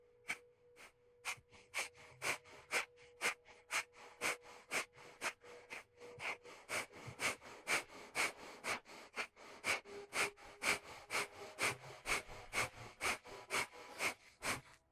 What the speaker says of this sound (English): we're using breath of fire to clean those pathways out